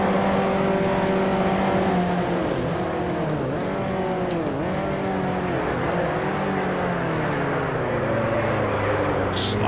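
A race car at Spa-Francorchamps loudly revs and accelerates out of a corner, its engine note sweeping up and down through gear changes, with a commentator talking over the steady roar.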